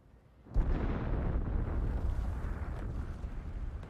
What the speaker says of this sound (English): Power plants, shit exploding.